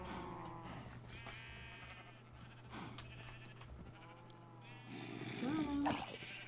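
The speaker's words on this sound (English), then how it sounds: "And get me some sheep in here." Sheep in a video game bleat a few times, soft sporadic calls over a quiet hum, with a louder, closer bleat near the end.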